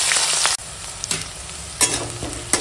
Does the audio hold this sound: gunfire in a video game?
no